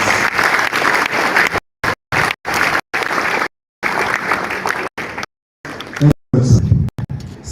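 Audience applause at a pharmaceutical society annual lecture in Plateau State, Nigeria, heard in choppy bursts broken by abrupt silent gaps, with voices mixed in.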